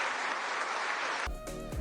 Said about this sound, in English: Few applauded her thoughts too.